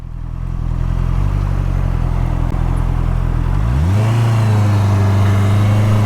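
A 2021 Honda CBR650R engine drones steadily as the motorcycle cruises at higher speed, loud and close, with a smooth rise in pitch partway through as revs climb, then holding a constant hum under faint wind rush.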